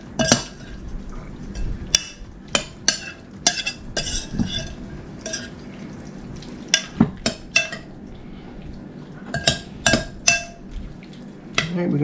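Garlic powder being stirred into bruschetta topping in a bowl, with a spoon clinking and scraping against the dish in irregular bursts, sharp clinks scattered among softer mixing sounds, close by.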